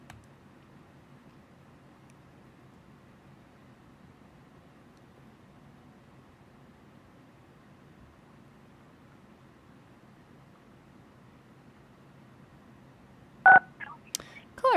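A phone caller presses star 9 on a keypad, giving a couple of short, sharp tones near the end after a long stretch of faint line hiss.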